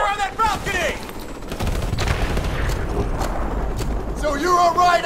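Call of Duty Modern Warfare Remastered campaign gunfire, a sustained volley of close, heavy shots and booms mixed with shouted voices calling out orders throughout.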